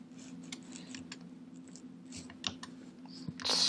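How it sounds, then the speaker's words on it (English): Someone types a project name on a computer keyboard, with quick light key clicks in short bursts over a low steady hum and a louder rustle at the end. "You need to type in a project name."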